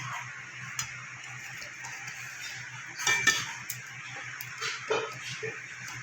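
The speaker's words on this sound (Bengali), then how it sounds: "গ্রেভিটা আমার ফুটে গেছে এবার আমি দিয়ে দেবো ভেজে রাখা বড়াগুলো" Fried papaya fritters drop into a pan of simmering poppy-seed gravy, with clinks and knocks of a spoon against the pan over a low bubbling background.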